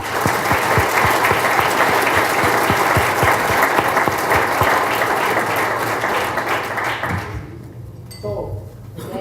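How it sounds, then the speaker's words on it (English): A conference audience gives sustained, dense applause to a team's leadership, steady and fairly loud, tapering off near the end into quieter room noise with a few faint sounds. "join me in a good round of applause for the leadership here"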